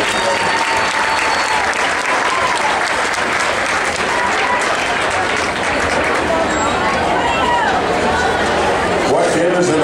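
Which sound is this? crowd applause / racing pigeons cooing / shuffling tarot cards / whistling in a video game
crowd applause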